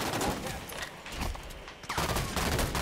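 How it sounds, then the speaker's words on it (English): Dense bursts of automatic gunfire from the Halo 5 Beta multiplayer shooter, loud and near, rattling in quick volleys with a short lull before resuming. "What is that guy shooting at?"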